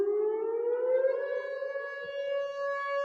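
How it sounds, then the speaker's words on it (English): A tornado siren wails steadily, its tone slowly rising in pitch and then holding, loud and sustained with no other sounds. "That's how our tornado sirens are right here."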